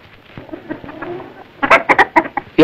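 A chicken clucking close by, a run of short, sharp, loud clucks in an irregular rhythm that rises out of quieter low murmuring and faint background noise.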